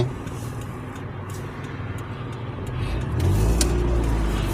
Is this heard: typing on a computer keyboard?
no